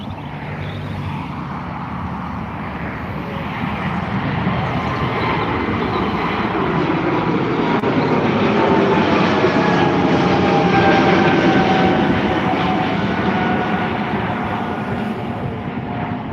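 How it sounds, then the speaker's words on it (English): A Swiss Airbus A220 takes off from Dublin Airport, a continuous jet roar that swells gradually and holds loud as the engines spool up, with a faint whining tone above the broad rumble and no voices. "Taking off now, we have the A220 by Swiss heading over to Geneva"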